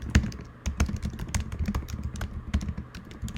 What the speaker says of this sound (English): You can type anything in here.